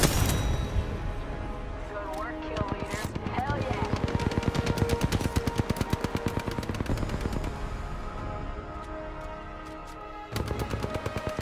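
Automatic gunfire in Apex Legends, rapid sustained bursts of shots in a fast steady rhythm, loud and close, with a brief pause before firing resumes, under game voice callouts.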